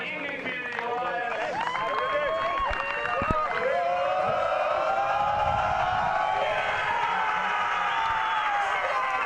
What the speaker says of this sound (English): big round of applause to the England Community Alliance